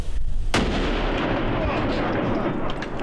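A single loud gunshot cracks out during combat in Bakhmut, Ukraine, followed by a sustained roaring rumble that fills the rest of the moment.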